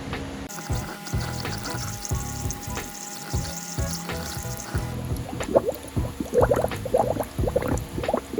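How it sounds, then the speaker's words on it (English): Coolant poured through a spill-free funnel into the radiator of a 1998 JDM-style Honda CR-V, a steady liquid gurgle and trickle with bubbling glugs that grow busier toward the end. "Now I can fill up the radiator. Bust out the spill-free funnel."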